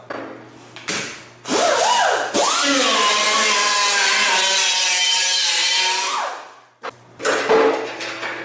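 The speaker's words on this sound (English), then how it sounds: "So I use that on this die grinder and or this angle grinder, and then we'll go ahead and get this done" An angle grinder cleans up welds on a door shell from a 1971 Camaro RS, with loud harsh bursts as the disc spins up and bites the metal, one long sustained grind in the middle, and shorter grinding passes at the end.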